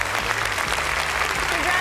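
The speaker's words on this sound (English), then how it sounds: "Give them a big round of applause." A large audience claps for celebrity guests returning to the stage at a science challenge grand final, with a sustained round of applause over a low hum of music and some voices.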